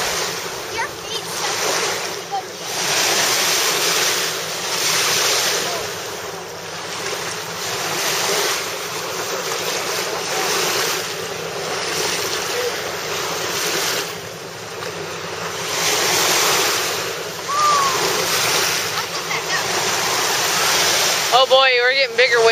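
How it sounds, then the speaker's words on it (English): Lake Michigan waves breaking on the beach at Indiana Dunes surge and wash ashore in repeated swells every few seconds, loud and close, with heavy wind buffeting the microphone throughout. "Oh boy, we're getting bigger waves."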